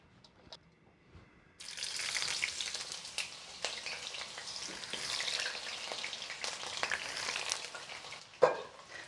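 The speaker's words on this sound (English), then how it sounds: "So let's start by frying some of the prepped eggplant." Prepped eggplant goes into hot vegetable oil and a steady frying sizzle bursts in after a quiet moment, bubbling close and continuous with a few small clinks near the end.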